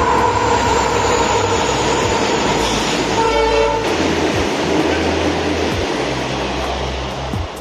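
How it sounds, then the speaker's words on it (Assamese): A train pulls into a station in Assam, a loud, close rumble of rolling wagons with a clear horn blast in the middle and rhythmic wheel clatter continuing after it. "দুই ঘণ্টাৰ পাছত এতিয়া আহি আছে ট্ৰেইন"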